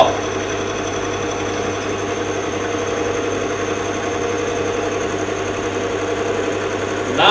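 A steady mechanical motor hum drones on without a break, the motor straining against a friction load with weights hung on a hook, even and fairly loud, with a low rumble beneath it and no voices.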